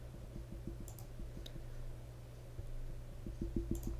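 A computer mouse clicks in quick bursts while selecting items in a software diagram editor, with a run of several sharp clicks at the start and another at the end, quiet and close.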